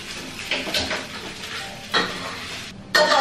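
Home-cooked nasi goreng stirred and fried in a pan, with a steady sizzle broken by a few louder scraping stirs of the spatula against the metal, close and without any talk.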